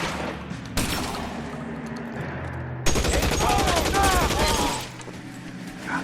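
Gunfire rattles in the L.A. Noire video game, dense rapid shots in bursts layered over game sound and overlapping voices, loud and close throughout, with a heavier volley in the second half.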